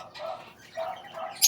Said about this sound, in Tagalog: ang mga ibon ko